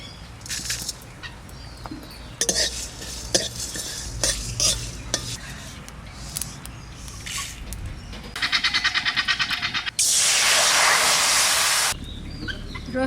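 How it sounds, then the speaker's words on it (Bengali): Black pepper and spices frying in a pan, crackling sizzle with frequent stirring clatter, rising into a loud, hissing burst of frying near the end. "আর দেবো কিছু গোলমরিচ ভেজে নেব।"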